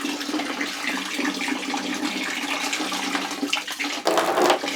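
Water spilling and running out of a survival gear item, a continuous loud rushing splash that swells briefly near the end.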